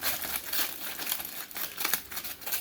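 Aluminum foil crumpled by hand at the edges, a dense crinkling rustle with bursts of sharper crackles, close and fairly quiet, running steadily with no talking.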